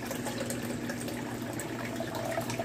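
Steady splashing of water being poured into a jug of passion fruit juice, continuous and close, with no voices.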